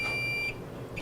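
An X-ray machine's exposure button beep in a radiology setting, a short steady electronic tone lasting about half a second, followed by a faint second blip, heard close over a low room hum.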